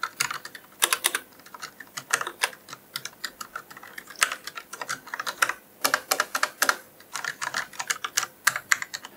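Steady typing on a Corsair K60 RGB Pro mechanical keyboard, keys clicking in quick irregular bursts with short pauses, fairly soft and close.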